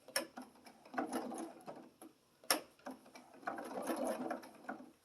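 A sewing machine runs in short, quiet bursts of rapid stitching along a fabric edge, separated by brief pauses and mechanical clicks.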